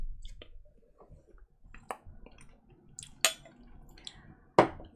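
Water dripping and trickling into a glass of peated Octomore 9.3 whisky, a few scattered drips and small splashes with soft clicks, close and fairly quiet with no voices.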